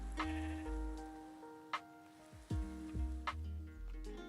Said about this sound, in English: Oh no, you're just a bighorn sheep.